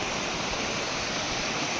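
Continuous broadband rushing of flowing water, even and unbroken throughout, like a river running close by; no one speaks.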